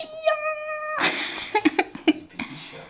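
A cat gives a clear, drawn-out meow up close, followed by a burst of rougher, scratchy yowling sounds with a few short catches of breath, all brief and fairly loud.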